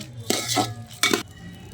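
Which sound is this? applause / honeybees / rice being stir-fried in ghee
rice being stir-fried in ghee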